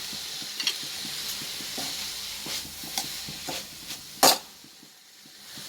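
Curry leaves sizzling and crackling in hot oil with beetroot for a Kerala-style beetroot thoran, a steady frying hiss with stirring scrapes and one sharp crackling burst near the end, no talk.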